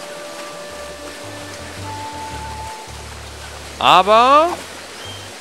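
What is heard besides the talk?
loud waterfall in video game Monkey Island 2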